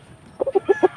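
A fighting rooster on a game farm gives a short burst of five or six close, distinct clucks in rapid succession after a brief quiet moment.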